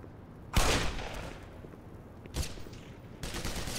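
Revolver fired in the game Black Mesa: three loud, sharp shots spaced about two seconds apart, each with a booming crack and a trailing echo that fades before the next.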